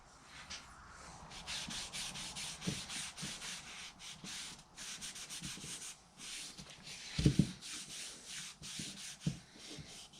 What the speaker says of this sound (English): I think maybe I'll just try a little stain on these, see what happens. This is dark walnut.